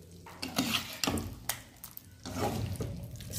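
Spinach and ground paneer are stirred into a roasted masala gravy in a pan for a dhaba-style palak paneer, with close, irregular scraping and soft wet squelches of a spoon against the pan.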